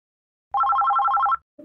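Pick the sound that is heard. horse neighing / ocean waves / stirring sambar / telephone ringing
telephone ringing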